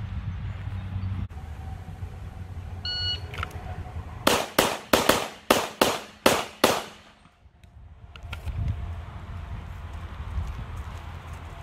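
Handgun fired off the draw at practice targets: seven sharp, loud shots in a quick, slightly uneven string, ringing against a steady outdoor background hiss.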